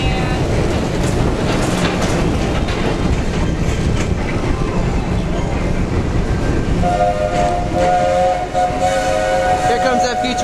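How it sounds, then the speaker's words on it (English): An amusement ride train rumbles and clatters steadily close by, with a tonal whistle sounding near the end over the continuous rolling noise. "Here comes that futuristic steam train."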